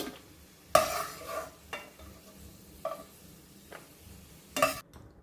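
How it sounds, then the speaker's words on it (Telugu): Fried cashews and raisins being scooped out of a pan of hot ghee, several sharp metal spoon scrapes and clinks at uneven intervals over a faint, low sizzle. "జీడిపప్పు కిస్మిస్ వేగిపోయాయి ఇప్పుడు వీటిని తీసేద్దాము"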